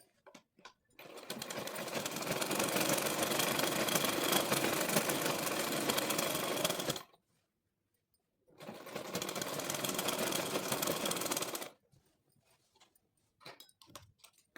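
A sewing machine runs a seam on palazzo pants in two long bursts, a fast close mechanical whirring rattle lasting about six seconds, then a pause, then about three more seconds, with faint handling clicks afterward.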